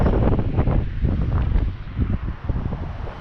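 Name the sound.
strong wind gusts outdoors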